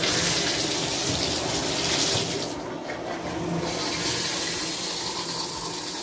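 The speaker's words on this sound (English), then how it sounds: "It drips here." Water running and trickling from a leaking bathtub shower faucet, a steady close wash of flow with a slight dip midway, no talking.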